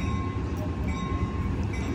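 Amtrak San Joaquin passenger train number 714 standing at the Richmond, California station, a steady loud low rumble of engine and rail noise with a faint tonal hum, continuous throughout with no clear voices.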